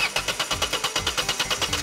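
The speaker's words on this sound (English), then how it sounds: "Time to start the engine." A front loader engine turns over and runs with a fast, steady mechanical chugging, evenly pulsed beats repeating several times per second, close and loud with no voices.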